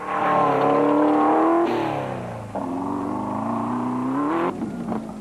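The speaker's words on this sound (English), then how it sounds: "Our cameras got a worm's eye view of the Kopanong Hotel Super Team Jinko with a BMW engine streaking by" An off-road race truck with a BMW engine streaks past at an off-road race, its loud, close engine howl sweeping down in pitch, cutting back, then climbing and holding a high rev before tailing off.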